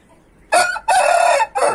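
A rooster with a large upright comb crows up close, a loud call broken into three bursts with short gaps, the middle part longest.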